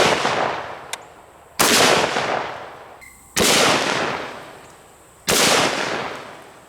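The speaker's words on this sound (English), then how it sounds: "Now let's hit it with our Effin Scar 17 chambered in 308, and we'll be loaded up with some 150 grain full metal jackets." Four heavy rifle shots from a SCAR 17 in .308 firing 150 grain full metal jacket rounds at a steel bumper plate, each a loud sharp crack with a long decaying echo, spaced roughly two seconds apart with no talking.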